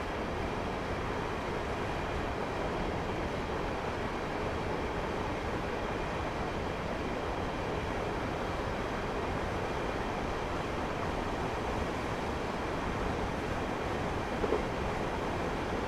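A Class 150 diesel multiple unit in Train Simulator 2016 runs through a tunnel on the Bristol to Cardiff route, giving a steady, dense rumble and roar that holds level and loud throughout with no voices.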